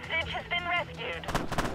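Gunfire in a police tactics video game, a short burst of sharp shots crackling near the end, just after a voice talks briefly.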